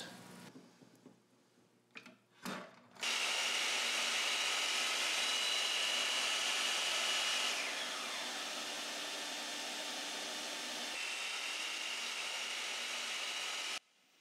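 A power saw cutting 45-degree miters on wooden panel pieces: a few clicks and knocks, then a loud sustained whine for about eleven seconds that eases slightly midway before stopping abruptly.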